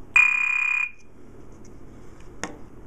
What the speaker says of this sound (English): now I've got clips on A and B, which gives us the chirp sound